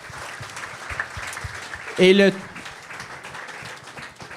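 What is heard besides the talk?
audience applause at live podcast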